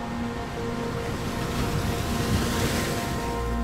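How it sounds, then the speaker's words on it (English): Ocean waves break and wash steadily along the shore, a continuous close roar of surf with gusts of wind across the microphone and no voices. "The only things that still seem to be unfrozen by time are the waves."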